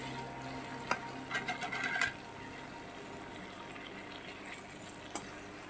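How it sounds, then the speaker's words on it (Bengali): Water poured into a pan of fried Bhola fish with cooked-down spices, a brief bubbling sizzle and splash rising for about a second, then settling to a quiet steady simmer with a faint clink near the end. "মাছটা দিয়েই আমি জল দিয়ে দেব"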